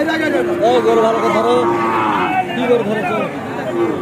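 Sahiwal bulls at a busy cattle market let out long, loud moos close by, over a steady babble of crowd chatter.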